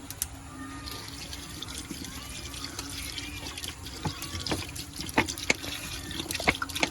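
Water runs and splashes steadily into a pot, with occasional drips and clinks over a low background hum; no voices.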